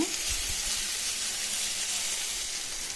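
Ivy gourd (dondakaya) curry roasting uncovered in a pan, a steady, close sizzle and hiss of frying with no talk.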